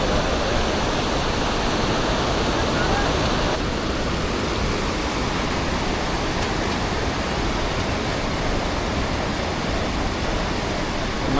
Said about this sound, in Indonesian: menyeberangi sungai yang deras ini, ya kan?